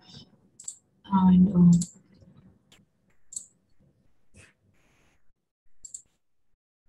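Sparse, sharp clicks from a computer mouse while playing an online game, spaced irregularly and close, with a brief spoken word early on.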